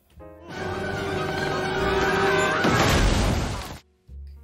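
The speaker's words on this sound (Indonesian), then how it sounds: "akuariumnya sudah tidak bisa menahan dus hingga akhirnya jatuh dan pecah" An aquarium giving way and shattering in a kitchen while a fire spreads, a loud sustained crash with breaking glass and splashing that swells before stopping abruptly, followed by a brief low thud.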